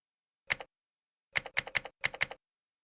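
Fingers tap a computer keyboard, one isolated keystroke followed by a quick run of five more, crisp and close in otherwise silent surroundings.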